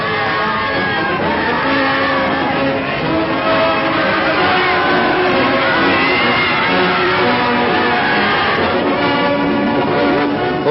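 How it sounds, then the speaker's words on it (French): Cheering and shouting from a crowd welcoming returning evacuee children, continuous and loud, with an old, band-limited newsreel sound. "On leur fait partout des acclamations enthousiastes."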